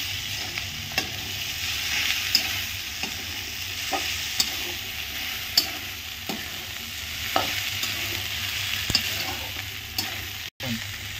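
Bhindi (okra) frying and being stirred in a pan with homemade masala, a steady dense sizzle with periodic clicks and scrapes of a spatula, close and alone without voices.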